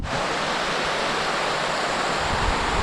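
Steady, full-bodied rush of a river flowing close by along a hiking trail near Lantern Pike and Chinley Churn, a continuous wash of water heard alone without pause.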